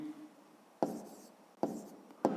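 Pen writing a math exercise on paper, three quick scratchy strokes spaced apart in quiet surroundings.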